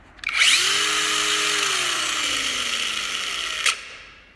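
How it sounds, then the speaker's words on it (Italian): A Parkside PWSAP 20-Li brushless cordless angle grinder with a disc runs loud and close at a steady high whine, then the brake kicks in and it spins down fast, ending in a short sharp clunk. "con questo disco come vedete l'arresto inerziale si attiva in modo più evidente e comunque più rapidamente"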